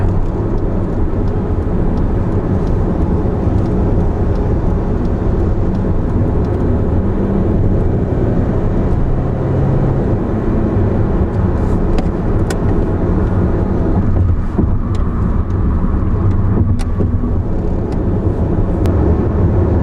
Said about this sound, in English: No real strain in the engine